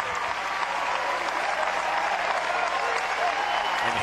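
Home crowd at a Clemson college baseball regional final cheering and applauding as fans rise to their feet, a dense, steady roar of clapping and voices throughout.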